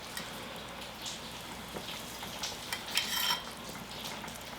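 Korean beef short rib soup (galbitang) simmers in a pot with soft, continuous bubbling and light spattering, faint and close, punctuated by a few small clinks of a utensil against the pot.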